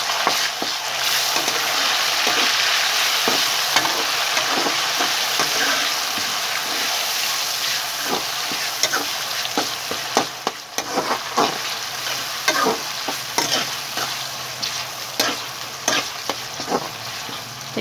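Chopped tomatoes sizzle loudly in frying masala for a chicken kofta dish, with a spoon scraping and stirring through the pan in repeated clicks and scrapes over a constant hiss.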